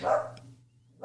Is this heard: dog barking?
yes